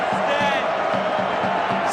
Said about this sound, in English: Hands are clapping. The drums are beating.